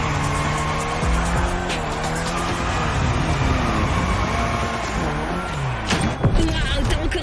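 A car drifts in the video game The Crew Motorfest, its engine revving and shifting pitch under tire squeal, loud and continuous, while a voice talks over the driving.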